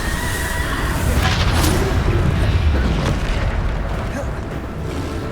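The Bombarda explosion spell in the video game Hogwarts Legacy sets off a deep, sustained booming roar that stays loud and rumbling throughout.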